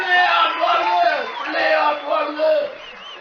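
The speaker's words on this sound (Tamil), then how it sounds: "உங்களுடைய பலத்த கரகோஷத்தோடு பிள்ளையானவர்களை மேடைக்கு அழைத்து வாருங்கள்." A stage show's audience roars with cheers, whoops and shouts as a contestant is welcomed on, the crowd noise swelling and dipping in loud waves.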